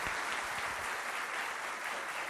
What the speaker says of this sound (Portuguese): Palmas para o Sérgio